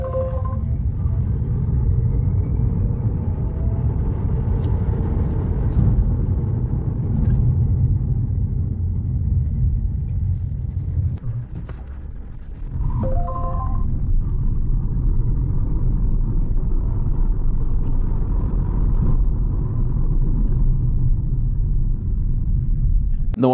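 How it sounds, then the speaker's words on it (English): A 2023 GWM Ora Funky Cat electric car pulling away hard on a back road, a steady low road and wind rumble inside the cabin, with a brief dip midway before it builds again. "Hit the accelerator pedal and hold on, and it shoots off."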